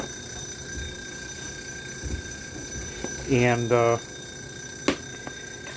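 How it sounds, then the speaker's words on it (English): A telephone rings in a home kitchen while potato salad is being prepared: two short electronic ring bursts close together, then a sharp click, with a voice speaking nearby. "hopefully that'll stop ringing for you guys soon."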